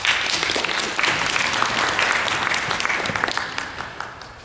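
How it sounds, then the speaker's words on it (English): An audience at a civic gathering with the mayor claps for Cassius Butts: a dense, steady burst of many hands clapping, loud and sustained throughout with no talk. "Let's give him a great applause."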